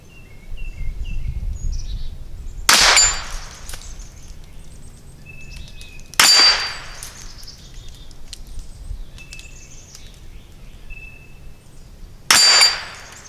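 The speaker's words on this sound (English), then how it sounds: "we're going to fire at some AR500 Make It Ring knockover targets that are bottles" Rimfire rounds strike AR500 steel knockover bottle targets, giving three sharp metallic rings spaced several seconds apart, with quiet outdoor background and faint bird chirps in between.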